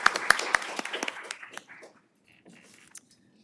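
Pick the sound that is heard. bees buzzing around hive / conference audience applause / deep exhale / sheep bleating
conference audience applause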